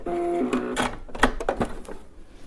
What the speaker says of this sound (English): I'm going to just slide these over to here. and just stitch those down.